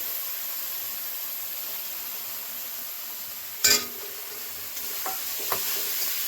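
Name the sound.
prawns frying with spices, being stirred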